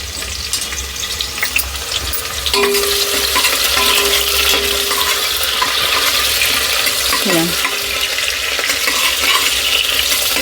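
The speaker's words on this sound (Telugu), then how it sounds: "ఇప్పుడు పచ్చిమిర్చి, దాంట్లోనే అవన్నీ కొద్దిగా వేగాలి మనకు" Green chillies fry in a pan at home while a red lentil khichdi is being made, giving a loud, continuous sizzle with some stirring and no talk.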